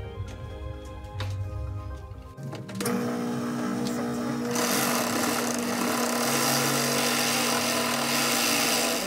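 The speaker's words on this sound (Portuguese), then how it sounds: "Essa aqui na overlock ainda é mais fácil de colocar o viés." An overlock sewing machine stitches bias binding onto a fish-shaped patchwork rug, starting with softer handling noises before breaking into a loud, steady, high-speed mechanical whir that runs continuously to the end.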